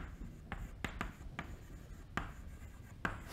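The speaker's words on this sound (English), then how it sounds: "So I write an equation" Chalk or marker strokes on a board while an equation is written during a mathematics lecture, a series of distinct scratchy taps and strokes spaced irregularly, close and clear with no talk.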